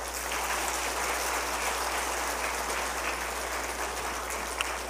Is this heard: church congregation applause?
yes